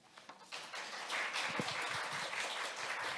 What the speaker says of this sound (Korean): 발표에 함께해 주신 캐데즈 팀에게 다시 한번 큰 박수 부탁드립니다